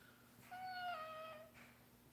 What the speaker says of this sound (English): Kitty, you're being rude on the live stream, Kitty